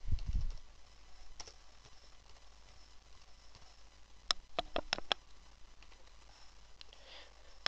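Brief burst of computer keyboard typing as a short phrase is entered, a quick cluster of crisp clicks midway through an otherwise quiet, low-level room hum.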